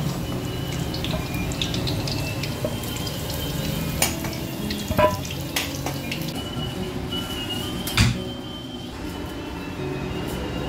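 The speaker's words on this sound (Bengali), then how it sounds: "সেটা আমরা কষাবো, তাই আমাদের আদা রসুন পেঁয়াজ লঙ্কা বাটাটাকে আমরা দিয়ে দিলাম" Mutton frying in hot oil with ginger, garlic, onion and chili paste for dum biryani, a continuous close sizzle with scattered spatters and stirring clanks, one louder scrape near the end, no talking.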